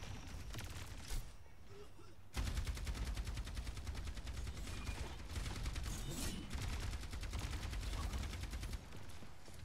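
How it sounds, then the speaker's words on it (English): Rapid automatic gunfire crackles back and forth in a competitive online shooter match, dense bursts of shots firing almost continuously, loud and close, with a brief lull before the barrage resumes. "Vision and Haven exchange shots down main"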